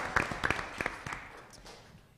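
Scattered applause at a school board meeting, a few sharp hand claps close by that thin out and fade within two seconds.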